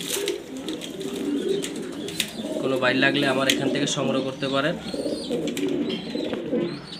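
German Beauty Homer pigeons kept for sale in Mirpur, Dhaka coo in low, throaty rolling phrases close by, under and between a man's speech.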